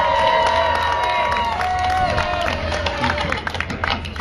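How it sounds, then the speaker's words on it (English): Outdoor 420 gathering crowd cheers and whoops for a contestant in a costume contest, loud shouting with some clapping and high-pitched yells, fading into babble toward the end. "please give her a cheer on 3"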